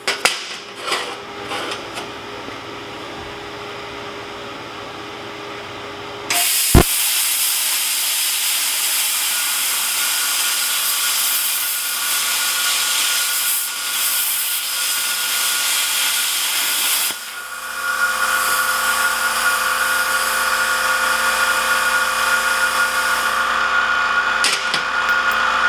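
A Jegs Cut 40 plasma cutter slices through quarter-inch metal with a loud, steady hissing roar that starts abruptly with a pop, runs for several seconds, then shifts to a slightly different, continuing hiss.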